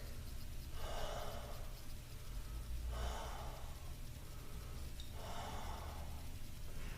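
Three slow, deep breaths drawn and released during a chair yoga stretch, each a soft airy swell about two seconds apart, close and steady over a low background hum with no talking.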